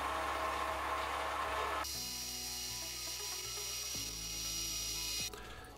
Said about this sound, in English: Here we're cutting a thread and a hole into the end of it so we can hook up the air supply to it.